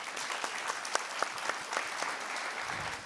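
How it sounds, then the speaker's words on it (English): An audience at a summit panel applauds the panelists, giving a steady, dense wash of clapping with a few sharper claps standing out. The applause is fairly quiet and distant and tapers off near the end. "How about a round of applause for our panelists?"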